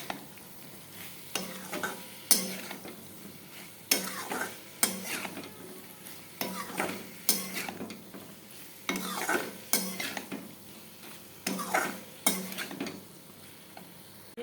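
Paneer curry masala being sautéed in a pan, with a spoon scraping and stirring in repeated bursts about every second or so over a steady background sizzle, close and fairly loud throughout.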